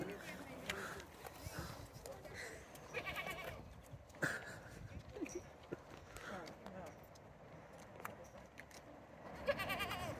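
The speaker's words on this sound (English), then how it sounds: "Oh no, baby goat." A baby goat found outdoors bleats in short, scattered cries over rustling and footsteps, with people talking nearby throughout.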